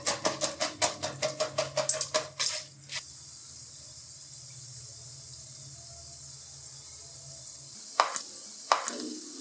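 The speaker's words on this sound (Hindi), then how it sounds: "इन्हें अच्छे से मिक्स करेंगे। पॉपकॉर्न जो है ऑयल में डूबे हुए होने चाहिए।" A utensil stirs popcorn kernels in hot oil in a pan, making a quick rhythmic series of about a dozen scraping strokes. A faint, steady sizzle continues after the stirring stops, broken by a couple of later scrapes, with no talking.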